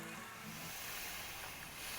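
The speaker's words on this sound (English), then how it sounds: "We're going to fill in the reservoir here with hot water" About a quart of hot water pours steadily into the water reservoir of a Weber kettle grill, a continuous soft splashing rush that runs for a couple of seconds.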